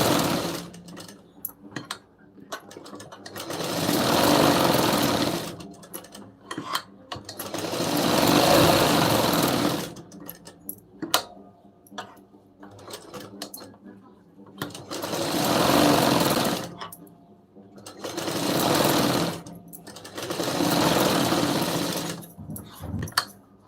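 A sewing machine stitches a cross strip onto a lined blouse in five steady bursts of rapid clatter, each several seconds long, separated by quiet pauses with small clicks.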